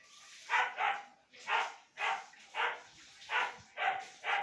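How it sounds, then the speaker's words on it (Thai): A dog barks repeatedly, about eight sharp barks in a steady rhythm, some in quick pairs, fairly close with faint background noise. "เสียงสุนัขบ้านผมนะครับ"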